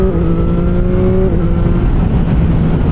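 Motorcycle rolling out of a road bend, engine note loud and close as it shifts down and then climbs again under throttle, with steady wind rush beneath.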